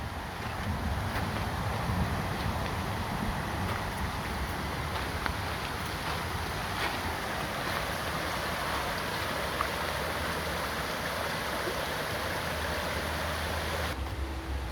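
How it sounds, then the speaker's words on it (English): A mountain waterfall over crystal-clear, cold water makes a steady, broadband rush that holds unchanged for the whole stretch. Wind buffets the microphone and there is no talking. "There's a waterfall up here."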